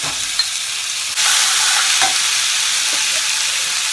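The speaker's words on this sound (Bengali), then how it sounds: "আমি মশলাগুলো দিয়ে দিচ্ছি মশলাগুলো যে পেস্ট বানিয়ে রেখেছিলাম" A spice paste drops into hot oil in a pan of Bengali dhokar dalna curry, made with steamed chana dal cakes, and sets off a sudden loud, steady sizzle. A few soft stirring scrapes sound over the sizzle, and no one speaks.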